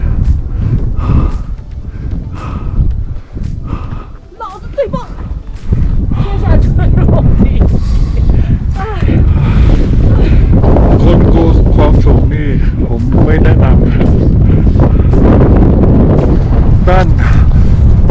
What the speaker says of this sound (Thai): แต่ลมแรงมาก หนาวมากครับ